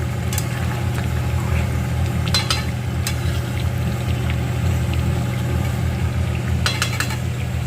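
Chicken being stir-fried (kosha) on a low gas flame, with a few scattered spatula scrapes and clinks over a steady low hum of the burner.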